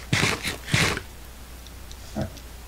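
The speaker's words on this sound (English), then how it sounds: "I'm gonna eat the dirty meat." A player character in Minecraft eats raw meat, heard as two quick close bursts of crunchy chewing followed by a fainter third bite.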